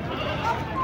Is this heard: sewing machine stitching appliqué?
no